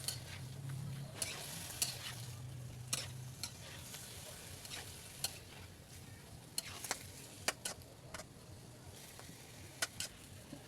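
Squid adobo sizzles in a pan as a spatula stirs it, a constant frying hiss broken by repeated scraping clicks against the pan, close and quiet.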